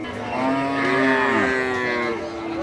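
A single cow at a busy cattle market in Joypurhat district, Bangladesh, gives one long, loud, close moo that swells and fades over about two seconds.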